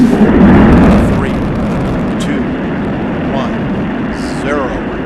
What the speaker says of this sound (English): liftoff of Space Shuttle Atlantis on a mission to build, resupply, and to do research on the International Space Station